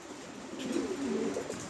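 Soft, low pigeon cooing close by at a pigeon farm, a brief rolling murmur over a hiss of background noise.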